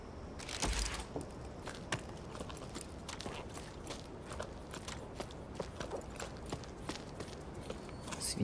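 A pig creature runs across the ground in the climbing game Jusant: quick, rhythmic footsteps patter steadily and fairly close over a hushed ambient bed, with no voices.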